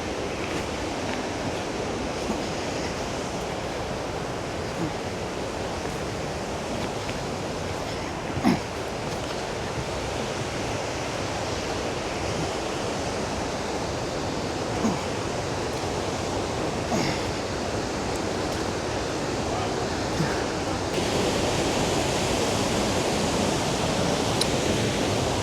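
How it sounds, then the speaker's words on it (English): Roaring waterfall in Wales, swollen after rain, a dense, steady broadband rush of falling water that holds at one loud level throughout, with no voices. "It's absolutely roaring today. We've had some rain and it's roaring. Can't wait to get behind this waterfall."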